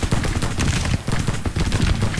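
Dense, continuous gunfire and cannon blasts from a Civil War battle in the strategy game Grand Tactician: The Civil War, with overlapping volleys and booms crackling steadily throughout.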